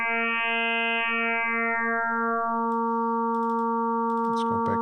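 A sustained Casio VZ phase-mode synthesizer tone with stacked bright harmonics holds steady, its upper overtones gradually shifting, then a few clicks and a brief burst near the end.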